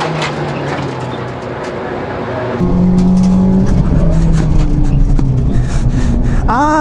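A race car on a time attack run is heard from onboard, its engine droning loudly and then rising in pitch as it accelerates hard, with a steady tone held through the run and a brief tire or engine whine at the end.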